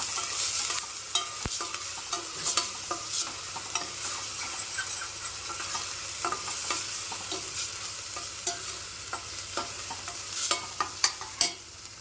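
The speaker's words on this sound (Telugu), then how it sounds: "ఇప్పుడు ఇదంతా కలిసేటట్టు మళ్ళీ ఒకసారి తిప్పుకున్నాం" A spoon turns spiced chicken curry masala with turmeric and chilli powder in a hot pan, giving steady scraping and stirring strokes over a continuous sizzle of frying, close up with no talk.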